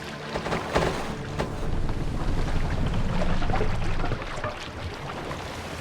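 Oars splash and creak as a longship is rowed through water in Assassin's Creed Valhalla, a steady broadband wash with wind over the microphone and faint rhythmic strokes, louder through the middle and easing off near the end, with no talking.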